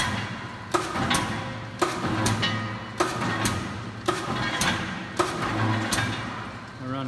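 A 60-ton Rousselle 6B-76 mechanical press, converted to 460 volt with light curtains removed, cycling through single strokes: sharp clanking thuds repeating roughly every second over a steady motor drone, close and loud.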